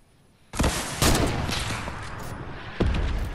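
A rocket launches in the video game Fortnite with a loud, sudden blast that rolls into a sustained roar, followed by a second sharp bang near the end.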